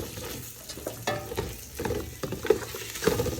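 Shrimp sizzle and fry in a pan while being stirred, with scraping strokes and crackling frying heard close up and alone, a steady hiss under irregular stirring knocks.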